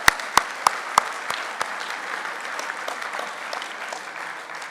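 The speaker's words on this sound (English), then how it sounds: "Clap for that." Applause from a banquet audience at a golf caddie scholarship dinner, opening with a few sharp, loud claps before settling into steady, moderate clapping from the room that fades gradually over several seconds.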